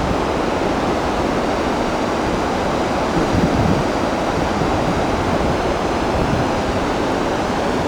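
Water rushing through the open floodgates of Hawks Nest Dam on a river, a loud, steady, broadband roar that continues without break, close and overwhelming.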